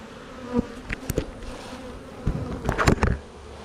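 Honeybees swarm and buzz around an opened hive with frames pulled out, a close, steady drone that swells with several louder passes as insects fly near.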